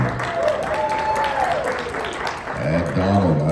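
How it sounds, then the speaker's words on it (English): Crowd applauding and cheering at a dancesport competition, American Smooth event, a steady broad wash of clapping that holds throughout with a few voices calling out over it. "And the crowd went crazy."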